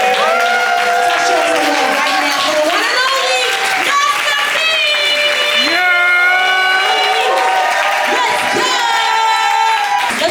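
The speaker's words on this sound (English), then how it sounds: "start making some noise right now. Start clapping." An open mic night crowd cheers and whoops loudly with scattered clapping, high excited voices rising and falling throughout.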